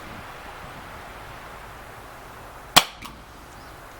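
An airsoft pistol fires a single sharp crack into a chronograph during a head-to-head test of ASG STI Duty One, CZ 75 P-07 and Bersa BP9cc models. A faint echo follows, over a steady background hiss.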